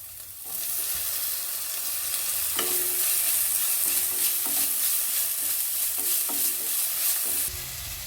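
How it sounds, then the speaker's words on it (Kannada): Tomatoes fry in a pan and are stirred, a dense continuous sizzle with intermittent spoon scrapes and clinks, close and steady throughout. "ಈಗ ಟೊಮೆಟೊ ಹಾಕ್ತಾ ಇದ್ದೇನೆ ಇದಕ್ಕೆ"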